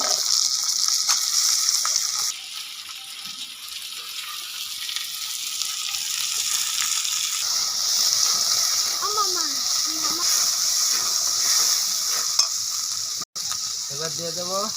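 Washed freshwater crabs fry in a pan of hot oil with a steady, loud sizzle and spatter, broken now and then by stirring and scraping, with a soft voice briefly audible under the frying.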